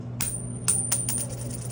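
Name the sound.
quarter coin bouncing on a surface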